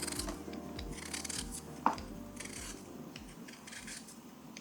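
A knife chops onions, celery, bacon and potatoes on a board, with soft repeated thuds and scraping cuts close by and one sharper knock partway through, all without talking.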